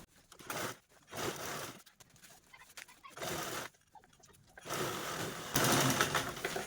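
A sewing machine stitches a zip onto old cloth in short, rapid bursts of mechanical whirring, separated by brief pauses, with the last bursts running longer and louder.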